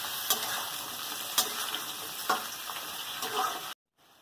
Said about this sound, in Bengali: দিয়ে প্রথমে পটলটাকে ভেজে নেব।